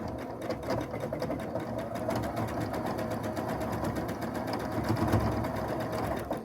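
A sewing machine stitches steadily up close, making a loud, continuous mechanical clatter with an odd knocking rumble from a fault, with no talk over it.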